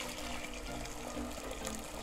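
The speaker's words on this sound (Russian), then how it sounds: "Я сюда залью, заранее вскипятил," Pre-boiled water poured from a kettle into a pot on a stove to make brine for salting pork fat, a steady continuous gush at low level with no talk over it.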